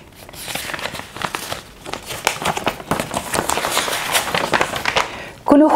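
Sheets of paper are folded into eighths with scissors at hand, giving a continuous run of crisp crinkling and creasing rustles, close and fairly loud, ending in a sharper burst.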